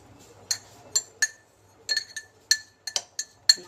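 A spoon stirs chopped mango with sugar in a glass jar, giving sharp, close glassy clinks in irregular bursts, about a dozen taps over a few seconds.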